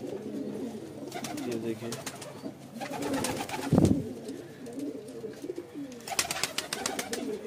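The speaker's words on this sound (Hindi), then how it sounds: "सेलेक्टेड कबूतर बताऊंगा जो काफ़ी अच्छी क्वालिटी में है" Pigeons coo in a breeding loft, several low rolling calls overlapping near and at middle distance, while someone talks briefly over them and a short thump sounds midway.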